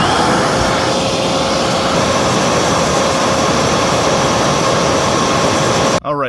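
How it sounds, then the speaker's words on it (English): A Singer Lazer Storm AS 01A stick vacuum runs with its brush roll spinning, giving a loud, steady whirring roar that holds unbroken for about six seconds before cutting off abruptly. "we're going to test the brush roll RPM for real this time"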